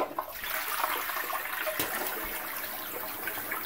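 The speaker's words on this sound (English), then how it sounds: "I hope it flushes." A toilet flushing nearby, a steady rushing and gurgling of water lasting a few seconds without speech.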